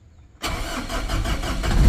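A Ford Ranger XLT Hurricane 4x4 automatic with a diesel engine cranks and fires up after a short quiet moment. It settles into a loud, steady idle with a slight rise toward the end. Nobody speaks over it.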